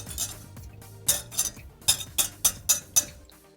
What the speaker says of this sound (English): In a medium bowl, whisk the eggs, oil, pineapple juice, sour cream together until combined.